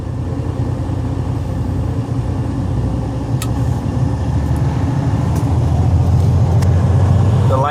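Freightliner Cascadia truck engine idling at raised RPM during a parked regeneration, a continuous low diesel rumble that builds slightly louder toward the end, close and steady.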